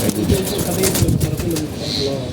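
Silver pigeons coo softly up close in a loft, their low throaty calls mixed with someone talking over them.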